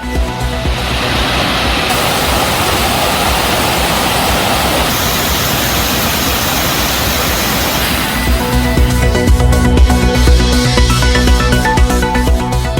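Kumbakkarai falls in flood roars loudly and without a break, a dense rushing wash of water that grows slightly heavier near the end.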